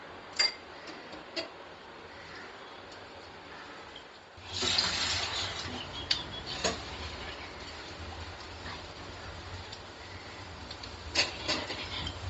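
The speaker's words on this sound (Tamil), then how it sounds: "கடுகு நல்லா பொரிஞ்சு வந்ததும்" Sporadic sharp pops and crackles of mustard seeds in hot oil, scattered irregularly over a steady sizzling hiss that swells partway through.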